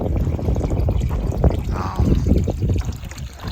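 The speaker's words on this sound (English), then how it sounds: "And we've got nice running water here." Running water from a stream where cows come to drink, a steady close trickle and pour with light outdoor rumble throughout, no talking over it.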